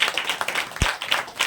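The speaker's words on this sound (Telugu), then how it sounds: "Give the big claps. అందరు గట్టి కొట్టండి." An audience claps together at a gathering, a brief, moderately loud burst of fast, overlapping hand claps lasting under two seconds.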